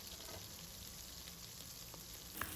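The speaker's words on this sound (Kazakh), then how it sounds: "Келесі бізде светофор перецімізді екі жағынан қуырып аламыз" Colourful bell pepper pieces frying in oil in a pan, turned to cook on both sides: a soft, steady sizzle that runs throughout, with a brief light clink near the end.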